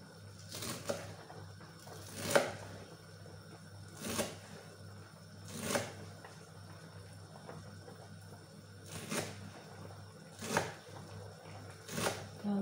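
Knife chopping food on a board, a series of about eight separate cuts in an uneven rhythm, close and fairly quiet over a low hum.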